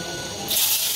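Cumin seeds dropped into hot oil give a sudden bright hiss that jumps up halfway through and keeps sizzling steadily, close and fairly loud.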